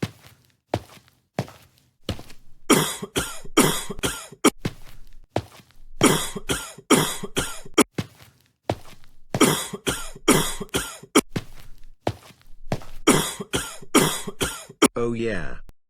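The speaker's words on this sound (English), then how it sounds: "Time to cough on the food." A person in a store coughs on food in repeated sharp bursts, clustered in several rapid series and separated by brief pauses, with talking in between.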